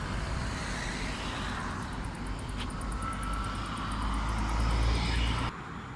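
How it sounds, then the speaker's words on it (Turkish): A dolmuş minibus on a road in Urla, İzmir, approaching with a rumbling engine and tire roar that swells louder toward the end before cutting off abruptly. "Dolmuş geliyor."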